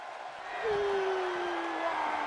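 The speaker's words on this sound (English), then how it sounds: "by the sound of this crowd, I think they're getting what they wanted" A crowd cheers in the WWE 2K16 wrestling video game, a steady roar of arena noise that swells and holds, with a long sliding whistle-like tone through it.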